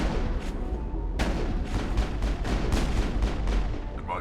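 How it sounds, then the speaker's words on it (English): Rapid, punchy shotgun blasts and combat impacts from the sci-fi video game Mass Effect, a string of loud booming bursts in quick succession over a rumbling low background. "Hit him with a shotgun."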